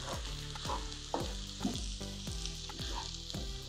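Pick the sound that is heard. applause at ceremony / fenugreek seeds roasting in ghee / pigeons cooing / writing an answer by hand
fenugreek seeds roasting in ghee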